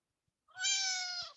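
A phone app plays a single recorded cat meow when the screen is touched, a clean, rising-then-steady tone of about a second following near silence.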